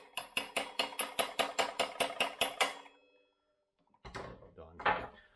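A wheel bearing seal on a 2000 Honda CR125R front wheel is driven in with the back of a socket, about a dozen steady, evenly spaced metallic hammer taps up close, then a pause and a few muffled knocks.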